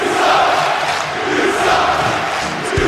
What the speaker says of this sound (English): And this crowd here not happy at all to see the Black Sun